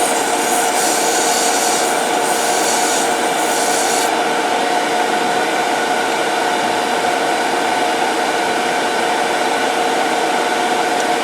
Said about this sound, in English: Do a little bit of sanding here.